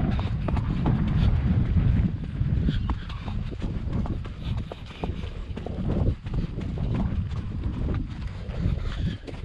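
A horse named Baião, fitted with a new vaquejada saddle, moves along outdoors, its hooves clip-clopping in an irregular trotting rhythm under steady wind buffeting the microphone.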